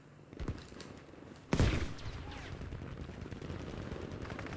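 Battlefield V gunfire from a tank gunner's machine gun, a loud close blast followed by rapid clattering bursts and scattered shots over battle ambience.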